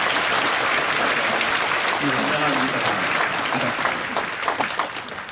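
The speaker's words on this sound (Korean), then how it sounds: "우리 아이들을 열심히 박수 한번 치겠습니다." A church congregation applauding children at a special early-morning prayer service with sign-language interpretation, sustained dense clapping that stays loud throughout while a voice speaks briefly over it.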